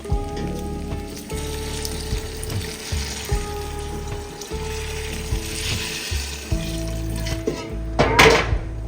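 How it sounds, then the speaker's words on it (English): Water poured into a pan of frying curry rice sizzles and splashes in a steady hiss, with a few clinks of cookware and a louder splash near the end. "Pour the water in."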